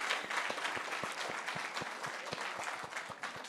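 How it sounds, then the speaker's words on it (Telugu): An audience claps for the film team at a success celebration for the movie Naa Saami Ranga, a dense, steady round of applause that holds throughout. "సో ప్లీజ్ అందరు ఒక్కసారి వీళ్ళందరూ క్లాప్స్ అండి."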